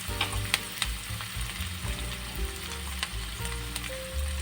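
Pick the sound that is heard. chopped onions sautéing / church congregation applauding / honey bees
chopped onions sautéing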